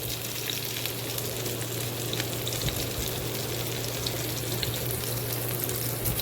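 Onions frying in oil in a pan for a Bengali potato curry, stirred with a metal spatula; a steady close sizzle with light scraping movements and a low constant hum beneath, no talking.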